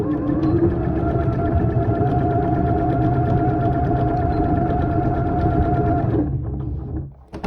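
A sewing machine stitches fabric for a face mask, running in a steady, loud, close mechanical whir for about six seconds, then stopping abruptly with a short quiet tail.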